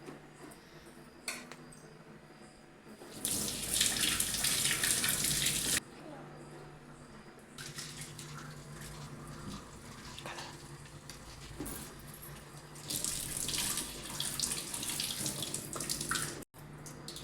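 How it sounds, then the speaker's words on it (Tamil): Tap water runs into a sink as hands are washed before cooking, with two louder bursts of flow between quieter stretches of steady trickling and handling noise. "குக் பண்ணக்குள்ள கையை வாஷ் பண்ணிக்கணும்."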